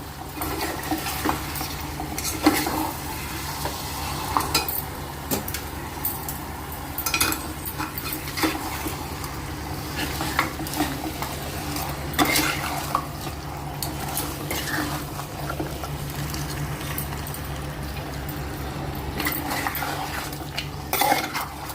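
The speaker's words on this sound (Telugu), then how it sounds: "ఇలా అంతా ఒకసారి కలుపుకోవాలి" Goat mutton being stirred with turmeric and salt in a pot for Andhra curry, with a continuous scraping and clinking of a spoon against metal and a low background hum, close and steady throughout.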